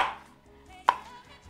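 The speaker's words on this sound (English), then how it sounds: "So start by chopping it on the long side." Knife chopping peeled garlic on a cutting board, two sharp knocks, one at the very start and a louder one partway through, close and clear.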